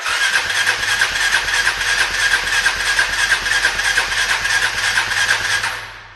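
A Suzuki DR 350 motorcycle engine running on a lithium battery, a steady close idle with a rapid even putter and a bright rattly top end, lasting about six seconds before fading.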